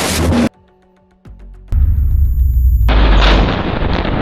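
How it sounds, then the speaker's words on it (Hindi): Explosives laid in tunnels in the Al Qarara area of Khan Yunis detonate: an abrupt burst, a sudden near-silent gap, then a heavy, loud, rumbling blast that rolls on to the end. "सुरंगों में बारूद बिछाकर उसे उड़ा दिया"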